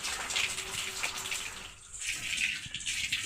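Water runs steadily from a tap while fresh market produce is washed, a continuous splashing gush with a brief dip in the middle.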